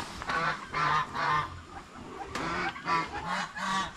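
Turkeys kept on a farm near their egg-laying nests give a run of about six loud, harsh calls in quick succession, close by and alone without talk.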